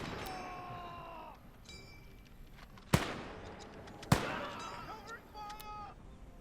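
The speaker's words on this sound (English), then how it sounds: "Artillery." Two loud, sharp artillery blasts from the video game Gates of Hell: Ostfront, about a second apart, each trailing into a rumble. Thin game tones and ambient battlefield noise play between and around the blasts.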